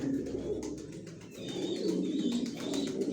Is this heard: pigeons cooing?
yes